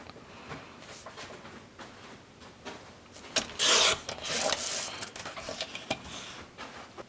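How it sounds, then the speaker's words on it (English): Paper being cut and trimmed for a 6x6 mini album gives soft close rubbing and scraping strokes, with a louder rasping burst midway and lighter scratches after it, no talk. "I'm just going to cut this little piece right here off and then trim the rest out"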